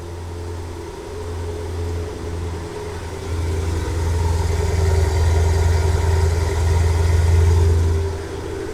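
A Maserati Quattroporte GTS V8 with a resonator-delete exhaust and its valves closed idles after a remote start. A deep, steady rumble grows a little louder partway through, then eases near the end, with no talk over it.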